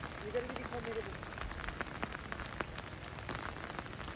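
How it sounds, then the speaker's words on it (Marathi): Steady rain patters on leaves and surfaces all around in a forest, with scattered louder drips and faint voices now and then. "पाऊस चालू आहे"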